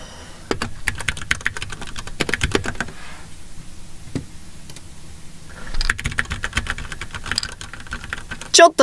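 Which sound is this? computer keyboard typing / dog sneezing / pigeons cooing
computer keyboard typing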